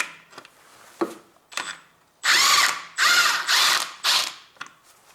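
A ratchet wrench loosens drive shaft bolts on a Honda Civic, with a few short clicks and knocks, then three loud, close bursts of rapid ratcheting.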